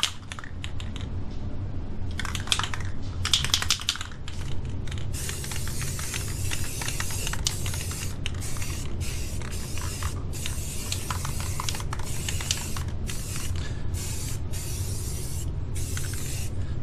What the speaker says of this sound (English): Another coat of primer.